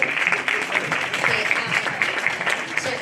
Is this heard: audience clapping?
yes